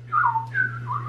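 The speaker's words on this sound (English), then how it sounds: "He likes my whistling." A person whistling a short three-note phrase, wavering up and down in a clear mid pitch, close and fairly soft over a steady low electrical hum.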